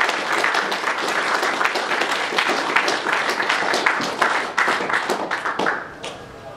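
Sustained audience applause greeting Sir Peter Gluckman as he arrives to speak, dense steady clapping from a full room that thins out and fades over the final second.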